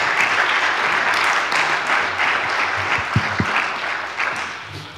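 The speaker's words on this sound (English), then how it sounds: "Ruggero and Spencer deserve your applause" An audience at a scientific lecture on imaging infectious processes applauds the presenters, a steady dense wash of clapping held at even strength for the whole stretch, with a few sharper individual claps standing out near the end.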